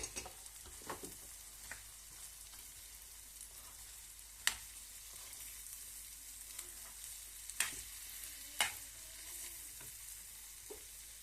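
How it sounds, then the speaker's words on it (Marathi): Cut okra frying in a pan gives a faint, steady sizzle with occasional soft spoon scrapes and a few sharper clicks against the pan as it is turned, quiet and without speech. "त्यानंतर मी ही भेंडी ऍड करते कापलेली"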